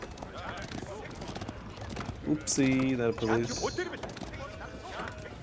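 Horses clip-clopping in the strategy video game Age of Empires 4 while playing the Mongols, with hoofbeats and a brief whinny under someone talking.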